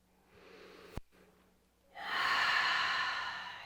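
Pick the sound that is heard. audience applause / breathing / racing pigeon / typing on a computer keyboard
breathing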